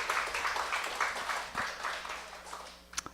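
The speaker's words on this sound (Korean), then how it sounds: "나오셨는데 우리 박수 좀 해주세요." Church congregation giving a short round of applause for two members at the front, a fairly quiet, scattered patter of clapping that thins out toward the end, finishing with a few sharper individual claps.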